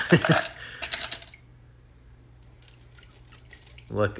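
Marbles drop into water in a prototype toilet bowl, a cluster of sharp clinks and plops, then a quiet pause, then another splash at the end. Speech overlaps parts of it.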